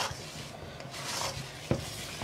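Herbal powders being stirred into honey with a spoon, a soft sticky scraping that rises and falls in slow strokes, with one sharp clink of utensil against the container near the end.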